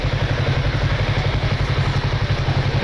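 A Yamaha MT-03 motorcycle ridden at night, its engine a steady low rumbling throb with a rapid regular pulse, loud and close, running continuously with no talking.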